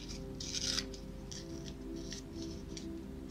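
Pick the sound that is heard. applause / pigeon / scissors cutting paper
scissors cutting paper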